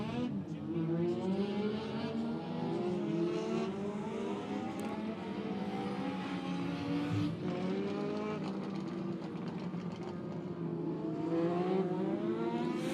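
Late model race cars at Monett Motor Speedway roll onto the dirt track with a steady, loud engine drone that rises and falls slightly throughout, and a voice talks over it.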